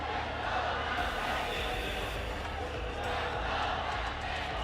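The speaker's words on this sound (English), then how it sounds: "Listen to that crowd." A large esports arena crowd at the Apex Legends championship finals roars in a dense, continuous wall of cheering and shouting, loud and sustained throughout.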